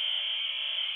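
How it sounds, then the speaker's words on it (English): A steady electronic beep from the video game Superhot holds one unbroken, piercing tone for about a second, loud and clear with no other sound. "And I hear the beep."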